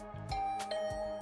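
A doorbell rings inside a video game, a short chiming tone ringing out over a steady musical background, clear and close.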